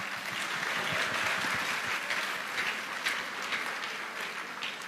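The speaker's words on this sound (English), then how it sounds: "Get them to clapping. You're not clapping." A church congregation at a Mothering Sunday service claps together, a dense, continuous patter of many hands heard at moderate distance and sustained for the full five seconds.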